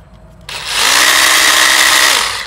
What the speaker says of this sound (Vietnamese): Đấy, hammer drill chạy pin.